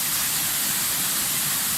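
Steady rushing roar of water at the Çokran Mavi Göl waterfall in Kahramanmaraş, a broad constant hiss filling the short moment without voices.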